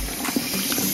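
Water rushing steadily into a newly installed toilet cistern, a continuous close hiss with a faint low gurgle and no talking.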